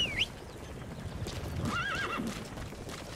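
A horse in Metal Gear Solid V: The Phantom Pain whinnies in a high, wavering neigh, followed by a second whinny and soft hoof clatter, fairly close and clear.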